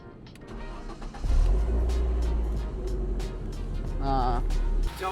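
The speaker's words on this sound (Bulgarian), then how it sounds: "Време е да я запалиме." An old car bought cheaply as a winter runabout cranks over and its engine catches, settling into a loud, steady idle close by after a brief quieter start.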